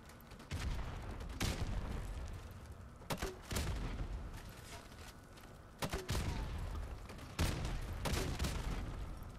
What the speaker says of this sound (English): Just everybody running around with grenade launchers.